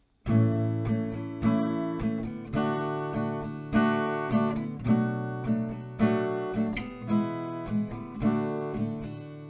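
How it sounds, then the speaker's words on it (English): An acoustic guitar strums the chord progression of JLS's "Tightrope" in a steady, even rhythm, each chord ringing full and close. No one speaks. "With the strumming, it sounds like this."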